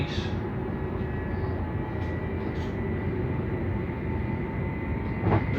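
A Thalys high-speed train rumbles past in a steady, broad roar with low-end heaviness, loud and sustained throughout, with faint higher whines on top.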